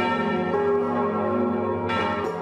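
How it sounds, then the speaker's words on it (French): Church bells ringing for an Armistice peace commemoration, a sustained resonant peal with rich overtones and a fresh strike near the end, heard alone. "Des cloches pour annoncer la paix."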